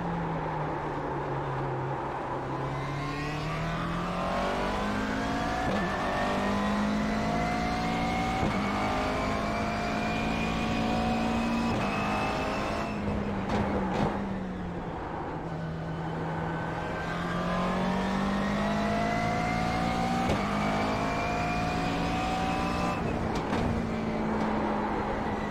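A GT race car engine in the iRacing VR sim at Imola roars continuously and loudly, its pitch climbing through the revs with brief drops at each gear shift and no talking.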